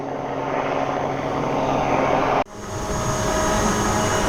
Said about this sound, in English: We're flying back again, flying some drones.